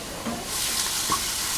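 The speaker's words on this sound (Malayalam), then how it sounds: "ഒന്ന് ഇളക്കി കൊടുക്കാം." Tomato masala for mutton head curry is stirred in a pan, giving a soft, steady sizzle and faint scraping, quiet and close, with no talking.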